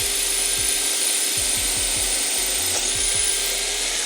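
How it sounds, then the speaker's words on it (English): A power drill cuts through a raised ridge on a metal engine part during an engine rebuild, running at high speed with a steady high whine and a series of short grinding bites. The drilling sounds close and carries on throughout, with no talk. "it's just because it's drilling right through this extra bit on the top there"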